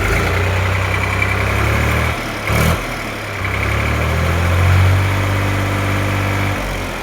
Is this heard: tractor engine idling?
yes